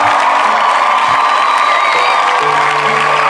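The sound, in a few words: congregation cheering for God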